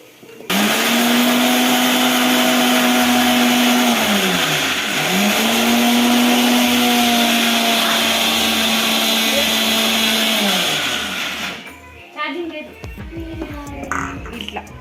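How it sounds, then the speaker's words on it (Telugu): A mixer grinder whirs loudly and steadily as it grinds garlic and unpeeled onions into a dry chili powder, briefly dipping in speed midway before switching off, with a few clatters after it stops. "ఇప్పుడు మరొకసారి మిక్స్ అయితే పట్టేసుకుందాము"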